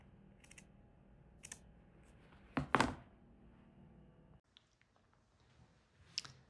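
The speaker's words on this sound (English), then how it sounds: "I'm just cutting through the front piece and towards the corners of my stitching lines." Scissors snipping fabric while cutting a zip pullover front piece toward the corners of the stitching lines: a few soft clicks, then one louder crunching snip, followed by quiet small ticks, close with no talk.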